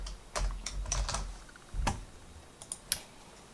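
Computer keyboard typing while renaming a sheet tab in Microsoft Excel: a short, quiet run of separate key clicks with small pauses between them.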